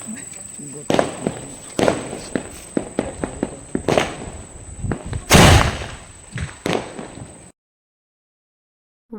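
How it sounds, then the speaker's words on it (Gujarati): Firecrackers bursting nearby during Diwali night celebrations in a village, a string of sharp loud bangs at irregular intervals with one big blast midway, close and dominant, ending abruptly. "બાજુમાં ફટાકડા ફૂટે છે"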